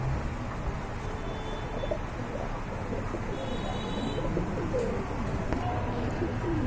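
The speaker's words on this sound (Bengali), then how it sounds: "এই যে দেখেন আপনারা কতটা কিউট কবুতর" Red-colored pigeons at a pigeon market cooing softly among general bird chatter and low background murmur, the calls faint and intermittent.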